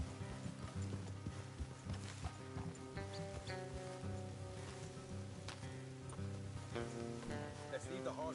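Horse hooves clip-clopping on a road in a video game, a steady close rhythm under mechanical creaks and a faint musical drone, with no talking.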